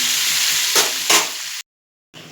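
Raisins and cashews frying in oil in a pan, with a bright, close sizzle and stirring scrapes, then a sudden drop to silence before the sizzling returns briefly.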